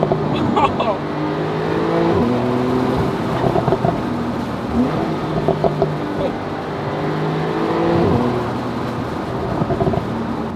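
Turbocharged Porsche 991.2 Carrera Cabriolet accelerating on a summer road: the engine note climbs repeatedly through several rising sweeps with gear-change dips, heard from inside the car over wind and road rumble.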